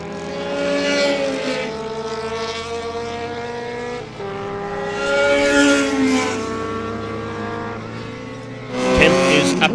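Classic superbike motorcycles, including a Kawasaki, racing on a circuit in Cape Town, engines wailing and rising and falling in pitch as bikes pass, loud and steady with a fresh surge near the end.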